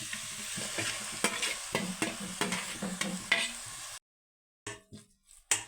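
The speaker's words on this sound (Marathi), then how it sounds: "आता ही किसलेली कैरी आपल्याला तुपावरती पूर्णपणे मऊ होईपर्यंत परतून घ्यायची आहे" Grated raw mango sautés in hot ghee in a kadhai, with a close sizzle and rhythmic spatula scrapes for about four seconds, then a sudden silence and a few brief scraping bursts.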